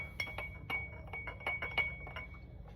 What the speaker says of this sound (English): Might as well stir it up with this head stud.